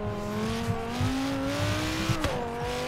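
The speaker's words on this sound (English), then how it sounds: "I love the engine sounds in this game." A car engine in Forza Horizon 3 drones steadily, its pitch slowly climbing as it accelerates, then a gear shift with a brief dip before the rise resumes, loud and continuous.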